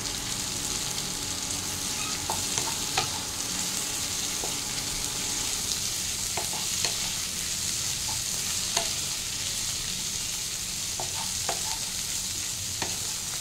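Toor dal and tomato are stirred in a frying pan, a low steady sizzle underlying scattered soft scrapes and taps of the spoon, close and moderately quiet.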